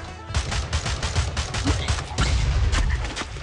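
Quick, loud cartoonish gunshots from Swamp Attack 2 fire in a rapid irregular string against swamp monsters and an otter, each shot a sharp close crack over busy game noise.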